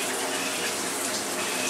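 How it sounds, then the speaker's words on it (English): Water from a toilet's bidet sprays out in a steady, loud, continuous gush close to the microphone, with no talk over it. "As soon as it pushes, water starts flowing."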